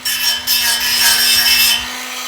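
A Dremel rotary tool fitted with a 1.5 inch grinding wheel, giving a steady high-pitched whine and rasping grind in two close, loud passes with a brief break between them.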